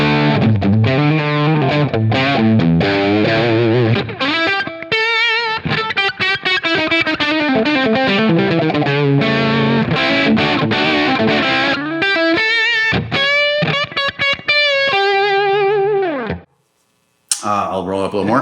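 Distorted electric guitar played through a Line 6 Helix internal cab model with a 57-style mic, strumming loud repeated chords and single-note runs, then dropping to near silence before a brief final hit.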